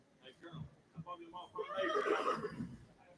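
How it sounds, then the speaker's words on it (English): Horse neighing in the ring at a livestock auction, a young three-year-old, with a long rising whinny in the second half, while a voice talks over the start. "A nice young horse, got his whole life ahead of him."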